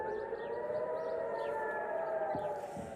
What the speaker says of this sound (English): Air raid sirens have been heard across Israel.